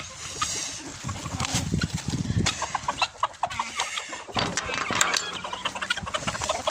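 Chickens in a henhouse cluck and stir as salad is thrown in for them, with busy, close clucking and rustling mixed with handling noises throughout.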